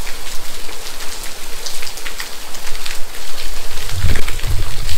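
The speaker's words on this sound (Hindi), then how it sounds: "बारिश की बूंदे गिर रही बहुत जोर जोर से" Heavy rain pours down hard and steady on a roadside in Northeast India, a dense close hiss of drops with louder low thumps near the end.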